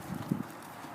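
Hooves of a ridden horse during a schooling session, a couple of soft clip-clop footfalls close by in the first half, then quiet.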